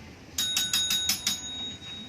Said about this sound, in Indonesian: Kita sudah bel kan.